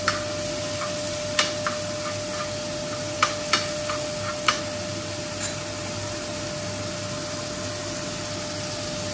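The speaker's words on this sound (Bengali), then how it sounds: "হিং, আদা আর কাঁচা লঙ্কা দিয়ে নেড়ে নিই।" Hing, ginger and green chilli fry in a pan with a steady broadband sizzle, and a few sharp spatula scrapes and taps come up close as the spices are stirred.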